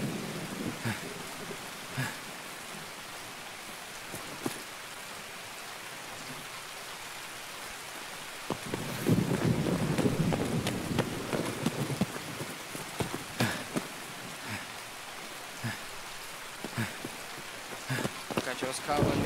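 Steady rain patters in Escape From Tarkov, with a low thunder rumble swelling midway and scattered sharp clicks and thuds on top, loud and continuous throughout.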